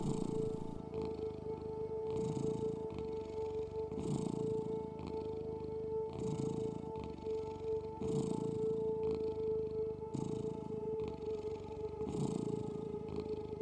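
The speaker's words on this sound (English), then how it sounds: "after a while, Aphrodite starts purring" Steady cat purr in a slow, even rhythm of rising and falling breaths, close and continuous for over thirteen seconds with no voices, forming a cosy bedtime backdrop.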